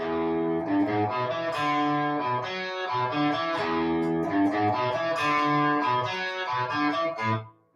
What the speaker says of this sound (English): This one right here has just a little bit of distortion.